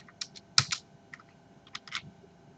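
A handful of sharp, separate key taps on a computer keyboard, close and fairly clear over a quiet background, with one louder press near the start.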